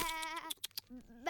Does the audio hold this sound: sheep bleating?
yes